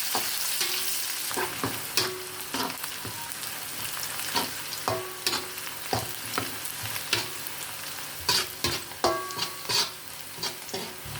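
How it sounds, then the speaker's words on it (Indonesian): Sliced shallots, garlic and ginger sautéing in oil in a wok give a steady sizzle, broken by repeated scraping and clacking strokes of a spatula stirring the pan. "Tumis terlebih dahulu irisan bawang merah, bawang putih, serta jahe."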